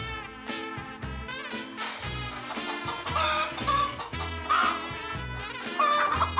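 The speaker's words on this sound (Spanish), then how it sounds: "ya las gallinas están cantando, esperando que le lleves la comida" Hens cluck repeatedly in a rhythmic series of calls, fairly loud and close, layered over a musical background with no speech.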